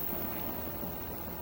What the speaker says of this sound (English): that's the fishing boat.